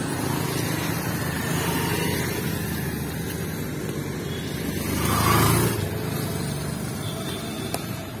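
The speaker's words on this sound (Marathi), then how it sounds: "हा जो आहे हा मुंबई गोवा हायवे आहे।" Traffic passes steadily along the Mumbai-Goa highway near a school, with a continuous low road rumble and one vehicle swelling louder as it goes by.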